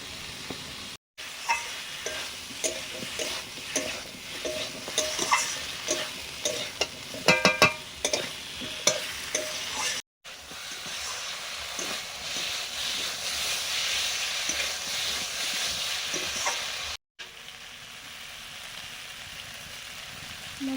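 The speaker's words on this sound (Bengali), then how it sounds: "মশলা কষানো হয়ে গেছে" Spice paste sautéing in oil with chunks of potato and spiny gourd, a continuous hissing sizzle broken by repeated stirring scrapes and clatters, with no talking.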